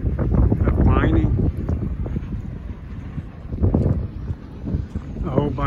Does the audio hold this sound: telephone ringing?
no